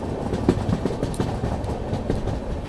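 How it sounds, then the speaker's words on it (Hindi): Udhna Banaras Express pulling out of Ujjain railway station, a steady low rumble of the train with soft clickety-clack of wheels over rail joints, moderately loud and continuous, no talking. "तो 3:35 पे अपना डिपार्चर हो रहा है"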